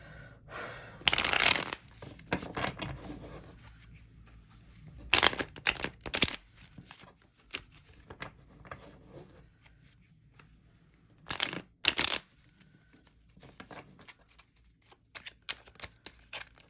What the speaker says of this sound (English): Let's pull some tarot, because I'm curious. Let me shuffle these things real good.